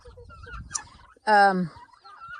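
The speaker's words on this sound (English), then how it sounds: "And that's the rooster over here." Chickens and a rooster in a courtyard coop: low clucking and scratchy fowl calls at first, then one loud, nearby harmonic crow or gobble-like call lasting about half a second, with no talk.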